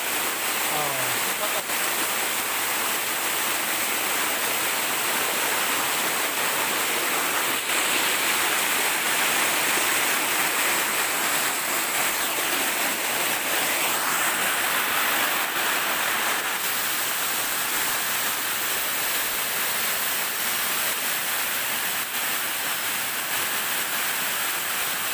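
A forest waterfall roars continuously, its rushing water a loud, even wash of broadband noise that fills the whole stretch with no break.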